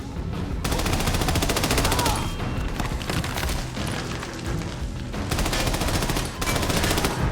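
Sustained, dense third-person shooter gunfire rattles from the video game Army of Two: The Devil's Cartel, with heavy automatic bursts and booming shots running almost continuously and dipping only briefly.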